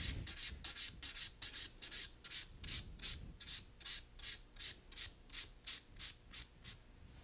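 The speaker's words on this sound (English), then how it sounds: "After you've done all 5 steps in filing, dust off the nail." Extra long coffin-shaped nail being filed with steady, rhythmic rasping strokes, about fifteen close, even passes with no talking.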